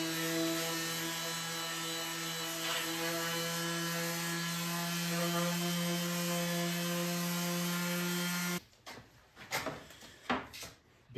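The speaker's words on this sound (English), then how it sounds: "start by sanding the insides of these pieces." A power sander works over the inside faces of wooden box pieces, its motor holding a loud, steady whine for about eight seconds before cutting off, followed by a few scattered knocks and clatters of the wood being handled.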